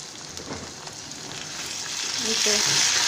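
Salt stirred into garlic and ginger paste in a frying pan, a steady close sizzle with soft scraping stirs that grows slightly louder toward the end, no talking.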